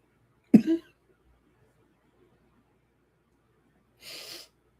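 A single sharp sneeze close by, followed after a pause by a brief breathy cough or sniff, otherwise quiet.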